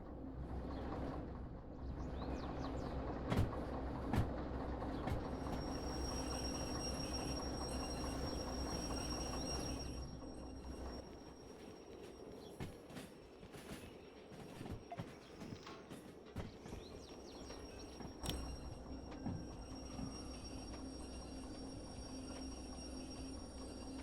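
Train rolling on rails in the railway simulator Derail Valley, a steady mechanical rumble with rhythmic wheel clatter and occasional clicks, loud and continuous, easing slightly in the second half.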